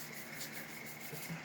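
Steady abrasive rubbing of sandpaper across automotive paint during color sanding, a continuous close scratchy hiss with slight back-and-forth swells and no talking.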